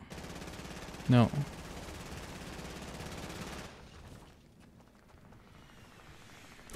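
Gunfire in the video game Fortnite: one short, loud burst of shots about a second in, standing out over a steady bed of game ambience that thins out afterward.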